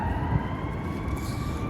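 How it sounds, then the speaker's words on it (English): Emergency vehicle sirens wail steadily through a downtown street, a continuous high tone over dense traffic rumble and city noise, fairly loud and close. "I'm not sure if you would be able to hear me over the sound of the sirens."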